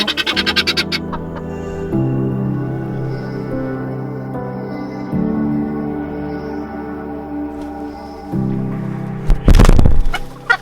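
Guinea fowl and bantam roosters call outdoors in a loud, continuous chorus of repeated honking cries, with a harsh, noisy burst of calling near the end.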